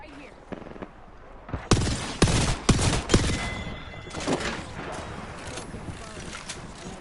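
Rapid bursts of gunfire from a video game shooter, loud and close, cracking out in dense clusters in the first half and then thinning to scattered shots over a steady game background.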